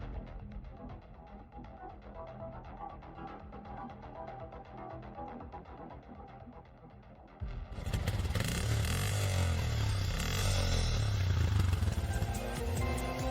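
A heavy motorcycle engine idles with a low throb, then roars louder and rougher midway as it revs up, staying close and steady.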